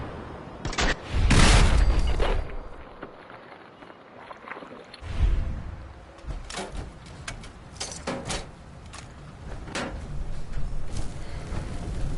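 Gunfire in Fallout 4, with a loud burst of shots near the start and another blast midway, followed by scattered softer shots and clatter through the rest.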